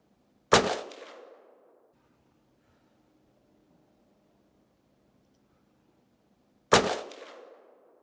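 Two loud single gunshots at an outdoor shooting range, about six seconds apart, each a sharp close crack with a short decaying tail, and quiet low rumble between them.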